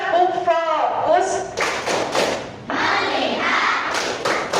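Children in an elementary classroom do a rhythmic focus clap: a few sharp claps that build into a sustained burst of clapping, mixed with young voices and a teacher speaking.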